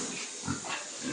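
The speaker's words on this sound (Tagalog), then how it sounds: "Mga baboy guys kung gaano kalaki lang" Pigs on a farm grunt and oink in a few short bursts against a steady hissing background, faint and somewhat distant.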